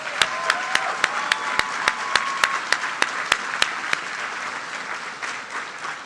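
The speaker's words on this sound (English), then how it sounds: "So a big round of applause for our instructor corps" An audience at an academic closing ceremony applauds the instructor corps, with clear evenly spaced rhythmic claps standing out over a broad wash of crowd clapping that fades toward the end.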